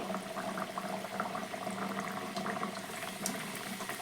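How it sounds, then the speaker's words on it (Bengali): Kachori frying in medium-hot oil in a wok, a steady close bubbling sizzle with fine crackles running evenly throughout, no talking. "বেলে রাখা কচুরিটা তেলের মধ্যে আমি এবার ছেড়ে দিচ্ছি"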